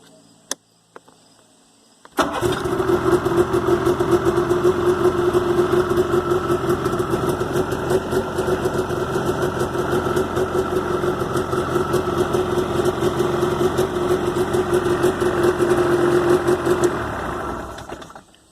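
After a short quiet stretch with a couple of clicks, a Yamaha snowmobile engine runs at a steady close idle, a continuous rough, buzzing drone holding evenly for about fifteen seconds before cutting off near the end.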